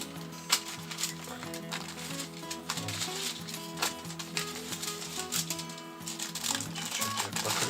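Aluminium foil being pressed and smoothed onto sauna walls during a DIY build makes dense, close crinkling and tapping crackles that run steadily throughout, over a faint low background hum.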